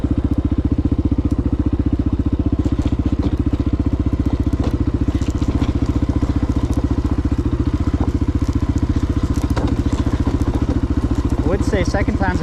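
A dirt bike rides down a steep slope with a dense, steady engine drone and rhythmic pulsing throughout, loud and close, with scattered knocks and rattles from the terrain.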